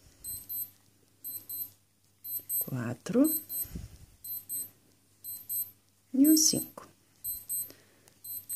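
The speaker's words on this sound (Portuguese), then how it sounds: "Vou aqui desligar o despertador no meu relógio." A wristwatch alarm beeps in short repeated bursts of high, thin tones throughout, while a woman counts crochet stitches aloud in Portuguese and the alarm is switched off.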